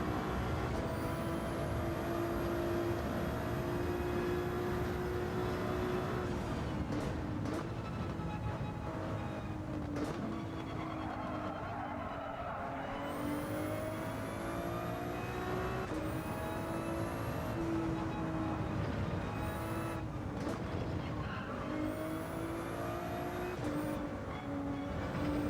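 Race car engine lapping Suzuka in Gran Turismo 7, a loud steady drone that rises and falls through gear changes and corners, with brief lifts and re-accelerations, continuous for the whole stretch with no talk over it.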